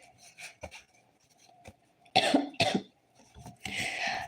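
Several short, close coughs and throat-clearing bursts come in quick clusters from one person at a microphone, with quiet gaps between them.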